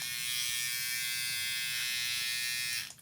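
A steady electric buzzing hum of a Stylecraft Rebel electric hair trimmer runs continuously, close and even, then cuts off at the end.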